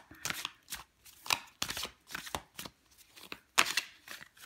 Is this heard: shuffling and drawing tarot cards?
yes